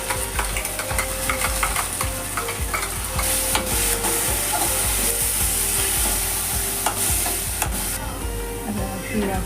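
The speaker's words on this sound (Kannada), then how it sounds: "ರುಬ್ಕೊಂಡಿರೋ ಪೇಸ್ಟ್ನ ಆ್ಯಡ್ ಮಾಡಿ ಹಸಿ ವಾಸನೆ ಹೋಗೋವರೆಗೂ ಕೂಡ ನಾವು ಫ್ರೈ ಮಾಡ್ಕೊಳ್ಳೋಣ" A ground paste for cucumber majjige huli sizzles and fries in a pan, loud and continuous, with a spoon stirring and scraping throughout.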